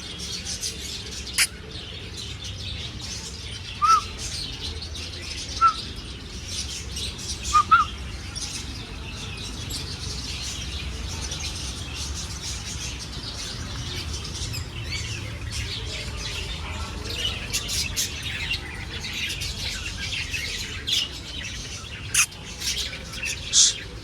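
Birds chirp in scattered short calls outdoors, a few sharp tweets popping out of a faint steady background hiss, mostly distant with occasional nearer notes.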